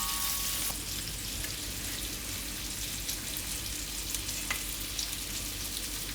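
Carrots for a Gujarati carrot-tomato shaak cooking in a pan, a loud, steady sizzle that fills the whole stretch, with a couple of brief clicks as the pan is stirred.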